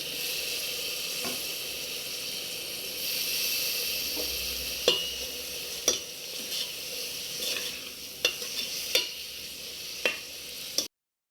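Liver curry with green chillies, coriander and mint sizzles steadily in a pan while a spoon stirs it, scraping and knocking against the metal every second or so, close and clear with no one talking.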